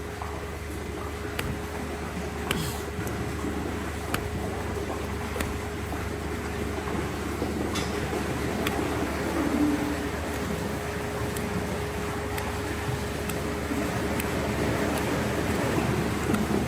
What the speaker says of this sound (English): You can hear the automatic scrapers in the background.